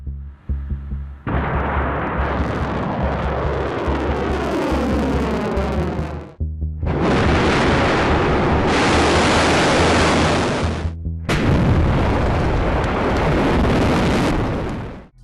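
A ground-launched DARPA Operational Fires hypersonic weapon test firing at White Sands Missile Range, New Mexico: three long, loud, broadband roaring blasts, each sustained for several seconds and separated by brief gaps, with no voices.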